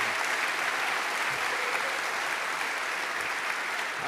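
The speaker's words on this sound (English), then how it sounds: "A round of applause for Savannah." An audience at a Python conference keynote gives steady, continuous applause for the speaker, a dense even patter of many hands heard from within the room, holding at a moderate level throughout.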